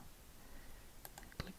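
A few quick, faint clicks of a computer mouse while working in CorelDraw, with one sharper click near the end over a quiet background.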